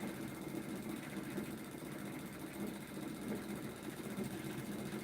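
A homemade pulse motor spins at speed, giving a steady, fast buzzing whir with an even texture throughout, fairly faint and unbroken.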